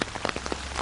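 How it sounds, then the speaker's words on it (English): Rain pattering steadily on a surface close by, a dense continuous patter of drops with no voices. "And you want to see what it looks like when it rains?"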